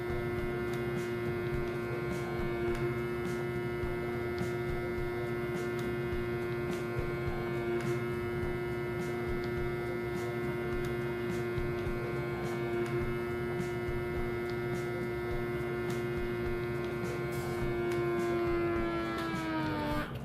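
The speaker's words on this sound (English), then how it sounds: "The vacuum process starts immediately." A Chef Preserve vacuum sealer pumps air out of a bag of food with a steady, even motor hum and whine lasting about twenty seconds, then winds down in pitch as it stops at the very end.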